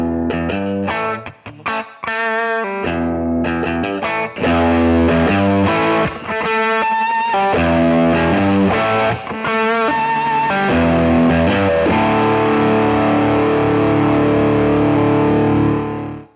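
An electric guitar plays a heavy, full riff through a Nero high-gain distortion pedal, with choppy palm-muted stabs and chords that end in a long, ringing sustained chord, loud and alone.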